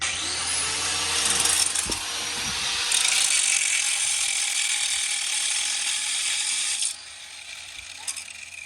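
Metal fittings are ground down with a power grinder, a steady high-pitched rasping whine that runs nearly continuously for several seconds, swelling louder midway before dropping off near the end.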